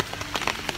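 Steady patter of rain falling on a surface in Mauritius, close and fairly loud, with scattered droplet hits over a constant wash.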